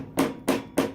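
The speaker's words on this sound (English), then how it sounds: "I took one of my damaged cases, and I took a hammer" Three sharp, evenly spaced hammer taps ring out, striking the rim of a damaged brass case formed from a 24 gauge shotgun shell, each hit close and crisp with a short decay.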